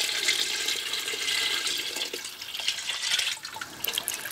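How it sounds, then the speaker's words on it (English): Water is poured into a cooking pot for a vegan curry, a continuous close splashing and gurgling rush that lasts throughout, slightly uneven as the stream shifts. "we will add a lot of water now"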